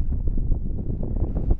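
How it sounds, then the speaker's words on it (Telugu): Strong wind buffets the microphone at Pangong Lake in Ladakh, a steady, loud low roar that keeps rushing and gusting through the whole short stretch with no voices over it. "విండ్ అయితే బీభత్సంగా ఉన్నది"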